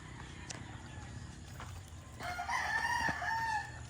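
A fighting rooster crows loudly nearby at a gamefarm, its call rising and falling over soft background clucks and faint farm noise.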